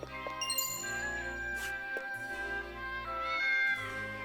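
A pet cat meows a few times in long, drawn-out calls over tonal game music with chimes and tinkling, moderately close and not very loud.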